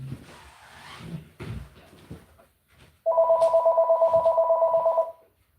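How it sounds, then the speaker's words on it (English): An electronic telephone rings in a steady pulsing burst of about two seconds, loud and close, following some muffled talk and shuffling in a room. "I thought I turned off that phone. I know I turned off that phone."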